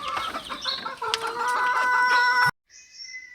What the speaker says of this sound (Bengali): উপরের মুরগিদেরকেও খাবার দিয়ে দিয়েছি।